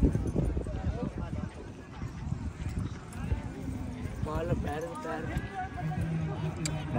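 Horse hooves clip-clopping in an uneven rhythm at Fortress Stadium, close by, mixed with people talking and calling out nearby.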